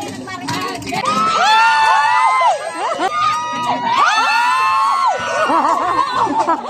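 A lively crowd at a Marlboro raffle shouts and cheers in overlapping bursts, high excited voices rising and falling close by.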